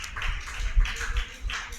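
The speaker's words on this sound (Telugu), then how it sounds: "చప్పట్లు కొట్టండి" A congregation claps at a church gathering: a brief burst of quick, uneven hand claps from a crowd, moderately close, with no talking over them.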